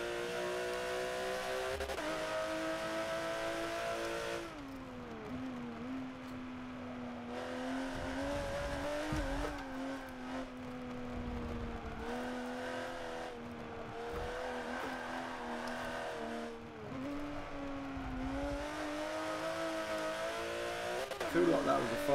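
Race car lapping in the video game Forza Motorsport 7, engine tone rising and falling through gear changes with brief tire noise, steady and fairly quiet beneath someone talking.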